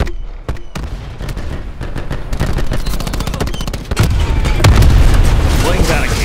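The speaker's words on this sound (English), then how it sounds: "Cluster grenade incoming." Black Ops 4 multiplayer chaos: a sharp shot, then dense rattling gunfire building into heavy booming cluster grenade blasts near the end, loud and close, with voices calling out over the action.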